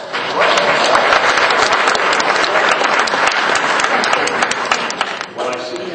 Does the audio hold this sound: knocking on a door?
no